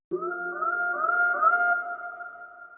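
A single sustained synth-like musical tone with layered harmonics swells in and slowly fades, heard alone with no talking.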